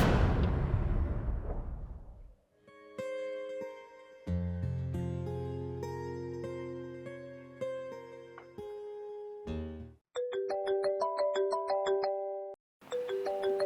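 A phone rings with a melodic electronic ringtone, a sequence of bright chiming notes repeating in bursts, fairly clear and close.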